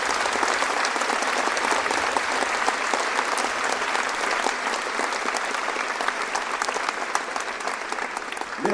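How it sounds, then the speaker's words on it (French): Sustained, dense applause from an audience at a New Year's greetings ceremony in Belfort, honouring the performers Adamo and Josser, steady and loud throughout with no clear break. "Merci d'applaudir encore Adamo et Josser, s'il vous plaît, pour leur prestation"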